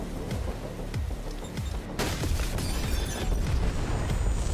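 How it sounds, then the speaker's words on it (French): A bomb fixed to a door detonates with a sudden loud blast, followed by a dense rumbling, crackling spray of debris that lingers. "L'explosion violente projeta Lisa au sol."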